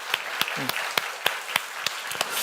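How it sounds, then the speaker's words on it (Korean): A church congregation claps in a steady rhythm, roughly a few beats per second, as sharp unison claps over a soft murmur of background noise during a worship service. "우리 다 같이 박수로 주님께 영광 돌려드리겠습니다"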